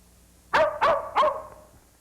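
A dog barks three times in quick succession, sharp and fairly close, then falls quiet over a low, faint background.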